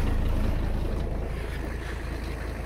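The engine of a 1985 Mercedes 300CD runs steadily close by, a low throbbing idle with a coarse, noisy rumble as it warms up from cold.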